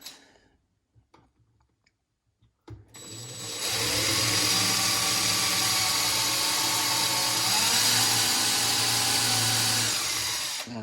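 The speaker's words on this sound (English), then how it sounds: "To do the rest of it, I need to drill all these out." A power drill bores holes for an under-sink organizer, starting after a few faint clicks and then running as a loud, steady whine for about eight seconds with slight changes in pitch, heard alone without talk.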